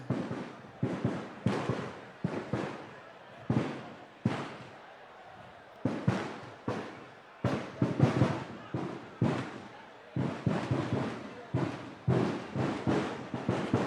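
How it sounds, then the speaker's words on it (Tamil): Strings of firecrackers popping and banging in irregular bursts at a farmers' association event, sharp cracks echoing nearby, with a crowd murmuring in the background. "தம்பி பட்டாசு நிறுத்து"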